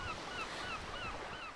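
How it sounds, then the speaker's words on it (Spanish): Steady seaside wash of waves runs under repeated bird calls, short honking cries that recur every few tenths of a second, moderately faint and without talk. "Quiero sentarme y escuchar el sonido del mar, los pájaros"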